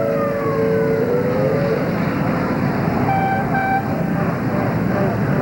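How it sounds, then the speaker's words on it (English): A fire engine siren wails along a Memorial Day parade route in Dearborn, Michigan, its rising and falling tones carrying under steady crowd and street noise, moderately loud and sustained throughout. "There's some fire engines there"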